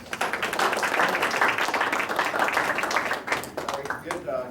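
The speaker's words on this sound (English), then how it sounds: "Let's give him a round of applause." Audience clapping at an evening planning meeting, a moderate, fairly steady patter of hands from a modest crowd with some voices mixed in, tapering near the end.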